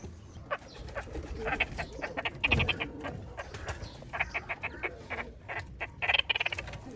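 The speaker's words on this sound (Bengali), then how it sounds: "আমাদের এই খাঁচায় এখন মোট 32 পিস কোয়েল পাখি আছে" Roughly thirty caged quails calling, rapid bursts of chirps and clucks coming in clusters with short pauses, fairly close, set against faint background hiss; no one speaks.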